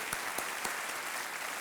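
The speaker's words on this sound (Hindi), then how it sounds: "तालियों के साथ इनका स्वागत किया जाए" A studio audience on a TV quiz show claps in a steady, soft patter of applause, a few sharper claps standing out from the dense, fairly distant wash.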